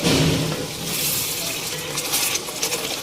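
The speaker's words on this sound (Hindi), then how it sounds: "और अब मैं इसमें यहाँ पे 1 कप पानी शामिल करूँगी।" A cup of water is poured into a chicken lazeez dish in a steady, close splashing gush lasting about three seconds.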